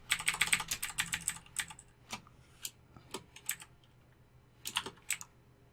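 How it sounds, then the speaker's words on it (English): Fingers clatter across a computer keyboard in quick bursts of close, crisp key clicks, with short pauses between runs of typing. "I apologize for the clickety-clack on my keyboard."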